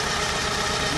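A VW Golf Mk1 cabriolet fitted with a 2.0 16v engine idles steadily, a smooth continuous engine hum close to the microphone with no talking.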